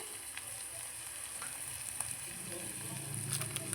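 Vegetables for a vegetable pasta fry in a pan with a faint, steady sizzle and hiss that grows slightly busier toward the end, with no voice over it.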